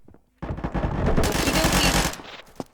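Sustained automatic gunfire from a weapon in the video game Combat Master, a dense, loud burst of rapid shots lasting about a second and a half, then a brief trailing shot.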